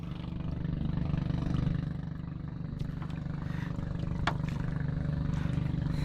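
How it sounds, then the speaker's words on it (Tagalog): A Honda engine run by a man building a small hut, likely powering a saw for cutting wood, holding a loud, steady droning rumble throughout with faint background clatter and no talk. "Napagka-lakas ng makina yan."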